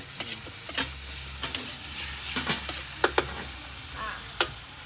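Ingredients for Thai nam prik ong with minced pork being stir-fried until fragrant, a steady close sizzle punctuated by repeated sharp scrapes and clatters of stirring.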